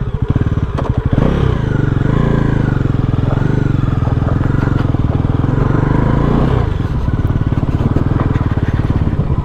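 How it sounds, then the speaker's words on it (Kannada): A newly launched Bajaj NS 400 motorcycle idles loudly up close, its single-cylinder engine giving a rapid, steady putter, with a brief blip of revs near the start before it settles back to a rough, clattering idle. "ಇದು NS 400 ಏನು ನ್ಯೂಲಿ ಲಾಂಚ್ ಆಗಿದೆ ಆ ಬೈಕಿದು"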